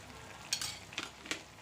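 Banana halwa with a spoonful of ghee being stirred in a pan: soft, quiet scraping with three brief louder strokes of the spoon against the metal over a faint background hiss, with no talking.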